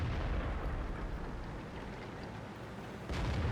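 Heavy tank gun impact in the video game World of Tanks on the Malinovka map, a dense, rumbling boom that stays loud throughout and swells again near the end, with no voice over it.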